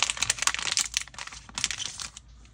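A bubble wrap bag crinkles and rustles steadily up close while a replacement iPhone 16 Pro screen is unpacked, with no talking.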